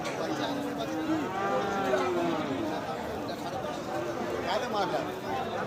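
Cattle, including bulls for sale, moo at a busy livestock market. Drawn-out lowing rises above a constant crowd murmur while people talk nearby.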